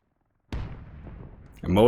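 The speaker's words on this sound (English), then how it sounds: "Some long-range tank warfare happening right now" Distant tank battle gunfire and artillery in a video game, a muffled low rumble of shots starting abruptly after half a second of silence, then a louder burst near the end with a voice coming in.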